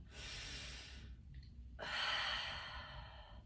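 A person takes deep, audible breaths during a seated chair yoga practice, a long airy inhale followed by a short pause and a second, louder breath, close and alone with no talking.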